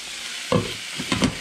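Bison, egg and ham sizzling in a pan, a steady hiss with a few louder crackles and stirring scrapes, close and alone.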